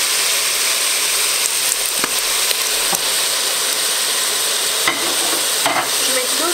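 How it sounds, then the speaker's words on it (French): Crushed peeled tomatoes, a can of them, tipped into a hot frying pan with meatballs and stirred, giving a steady loud sizzle with a few sharp scraping clicks of the utensil against the pan. "on va ajouter une boîte de tomates pelées, de concassé de tomates"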